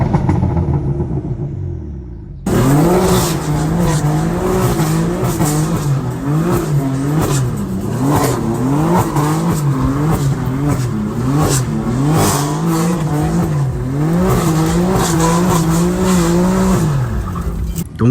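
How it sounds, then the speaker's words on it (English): A BMW M4 fitted with a VRSF downpipe revs hard and repeatedly, its loud, raspy exhaust rising and falling in rhythmic bursts for about fifteen seconds, close and alone after a quieter idle at the start. "I'm gonna put an exhaust clip right here."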